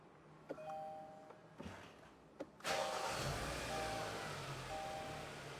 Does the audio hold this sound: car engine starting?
yes